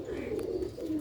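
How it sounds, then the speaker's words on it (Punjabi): Sialkoti pigeons coo softly nearby in low, rolling calls, with two brief phrases in about a second. "ਬਹੁਤ ਹੀ ਅੱਛੇ ਕੁਆਲਿਟੀ ਦੇ ਕਬੂਤਰ ਨੇ"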